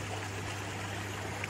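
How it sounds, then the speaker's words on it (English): Creek with several waterfalls on rural wooded land, a steady broadband rush of flowing water close by, continuous and even throughout with no voices. "There's several waterfalls on this creek."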